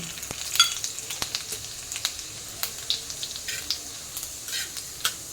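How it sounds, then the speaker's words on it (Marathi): Cumin and mustard seeds sizzling in hot oil for spicy buttermilk chillies, a close crackling fry with frequent sharp pops and spits over a steady hiss. "तेल गरम झालेलं आहे आता आपण याच्यामध्ये जिरे आणि मोहरी टाकूया"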